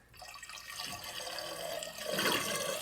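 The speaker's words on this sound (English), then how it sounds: "Let me simulate a leak." Water trickles and splashes from a toilet tank down into the bowl, a steady running flow that swells louder toward the end, close and continuous with no talking.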